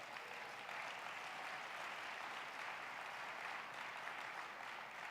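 At a general session, a large conference audience applauds for the U.S. Transportation Secretary, an even, sustained roar of clapping heard from a distance at a faint, steady level.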